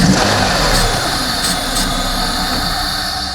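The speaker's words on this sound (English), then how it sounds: "The engine runs a little bit." Car engine with a fuel-related fault cranking and catching briefly, a loud rough roar and hiss that runs steadily for a few seconds, close by with no talking.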